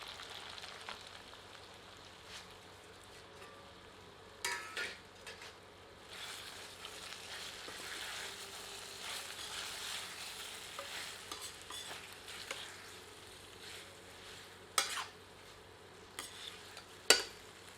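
Chicken rezala being sautéed with fried onions in a pan, a quiet, continuous sizzle broken by repeated scraping and stirring strokes, with a few sharper clatters of the utensil against the pan.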